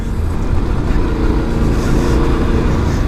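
Yamaha Tenere 700 motorcycle pushing through very deep mud, its engine droning loud and steady at close range with a rough low rumble, no voices over it.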